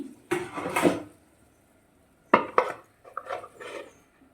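A lid goes onto a pot of spiced meat, making two bursts of metallic clattering and scraping with a pause between them.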